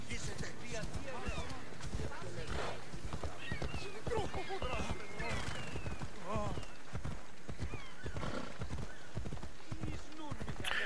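Galloping horse hooves in Assassin's Creed Odyssey, a steady rapid clip-clop with occasional whinnies, under continuous talk throughout.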